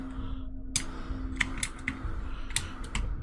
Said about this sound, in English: I'm just pushing every button on the keyboard.